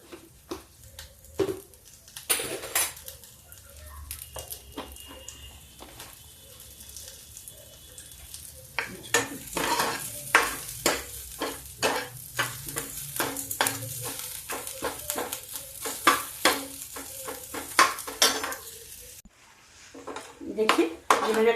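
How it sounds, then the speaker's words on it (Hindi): Cumin seeds and onion roast gently over low heat in a pan for a mixed spinach dal, a spoon scraping and clinking against the metal in repeated strokes over a soft sizzle, with a pause near the end. "जीरा और प्याज हल्का हल्का, ज्यादा तेज में मत भूनिए, धीमे धीमे भूनिए"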